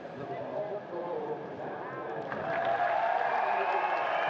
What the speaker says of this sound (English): Massive round of applause there from the fans and from the riders that joined him on the podium there